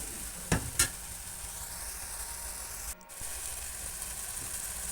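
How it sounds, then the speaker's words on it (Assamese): Boiled green leafy vegetables being stirred in a pan, a steady low sizzle with a couple of sharp scraping strokes near the start and a brief pause mid-way, close and fairly quiet. "এয়া চব ইমান ধুনীয়াকৈ সিজি গৈছে, আৰু মই এবাৰ আকৌ ধুনীয়াকৈ লৰাই দিছোঁ।"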